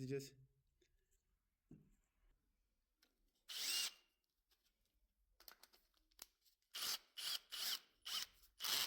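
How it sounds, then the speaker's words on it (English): Fine sanding of a starter motor collector (commutator) with 240-grit paper to clean burnt spots, heard as short bursts of dry rubbing and scraping, close up, with a run of rapid strokes toward the end and quiet gaps between. "We will clean these places with fine sanding."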